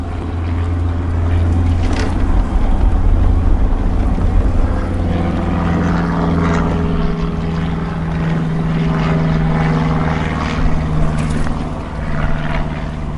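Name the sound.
Permobil M3 power wheelchair driving onto grass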